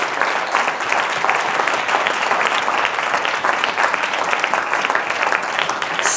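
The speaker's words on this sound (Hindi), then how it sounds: "ओ लो फिर हुण ते जीसस दे वास्ते तालियां बनदियां ने ना" A church congregation applauds for Jesus, producing sustained, dense clapping at even loudness from start to finish.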